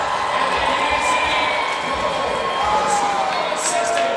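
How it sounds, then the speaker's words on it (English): A home crowd at a Utica City FC indoor soccer playoff match against Milwaukee Wave roars after a goal, a loud, sustained arena cheer with whoops and shouts throughout. "And that gets a nice rise out of this Utica crowd"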